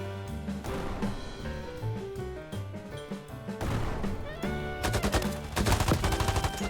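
Rapid bursts of gunfire in the Roblox first-person shooter RIOTFALL crackle over a loud music-like backdrop, growing denser and more intense toward the end, with heavy repeated shots.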